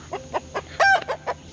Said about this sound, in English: get all these chickens back inside